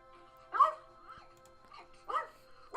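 A dog in the video game Rainswept lets out two short, close barks or yips about a second and a half apart, with a quiet room tone in between and no talking.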